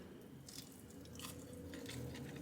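Crunchy beer-battered prawns bitten at a Jamaican restaurant give a close, loud crunch followed by steady chewing and mastication, with no talking.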